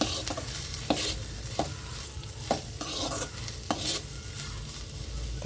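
Chilli powder is stirred into a mutton curry masala with tomato in a pan, a steady sizzle running under five or six sharp spatula scrapes at roughly even intervals, close and clear with no voices.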